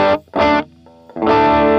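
An electric guitar played through a distortion pedal plugin rings out in three loud, buzzing chord strums. Short gaps separate them, and the last chord sustains to the end.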